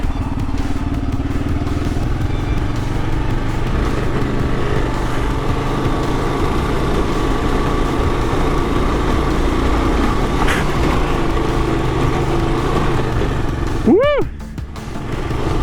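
Motorcycle engine running steadily on an off-road adventure ride after climbing a steep hill, a loud continuous rumble throughout, with a brief rising whine near the end.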